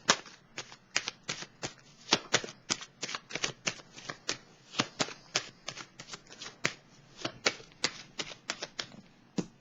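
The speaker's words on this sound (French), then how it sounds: "Je vais piger une autre carte." Tarot cards are shuffled and drawn in a steady stream of sharp, close card flicks and riffles, dense and rhythmic for nearly ten seconds, with no one speaking.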